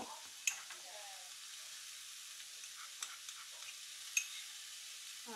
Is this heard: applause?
no